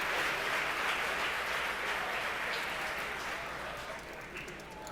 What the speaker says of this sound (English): The crowd here at headquarters cheering.